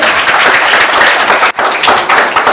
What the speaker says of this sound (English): A huge round of applause for the panel over here.